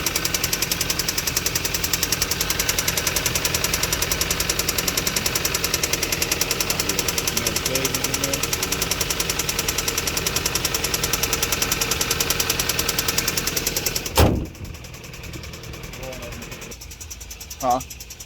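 Audi engine idling with a steady, fast tapping and knocking from a tensioner pulley, heard up close and continuous, with the tone cutting off abruptly near the end and faint background noise left behind.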